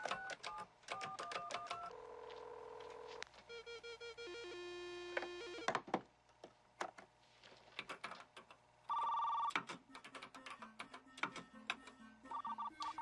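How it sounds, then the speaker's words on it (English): A phone line dials into a school computer: a run of quick dial tones, then a series of warbling modem tones and buzzing bursts, all loud and close, with no talking. "Dialing into the school's computer."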